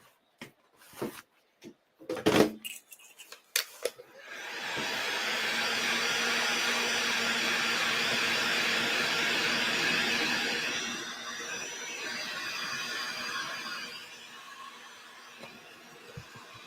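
Hair dryer blowing on fabric trimmings, a steady close whooshing roar that runs for about ten seconds and then eases lower, preceded by a few sharp handling clicks and knocks.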